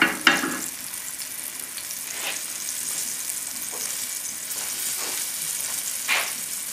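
Flour-dredged tilapia fillets frying in a pan, giving a steady close sizzle with a few sharper crackles and stirring touches, and no voices.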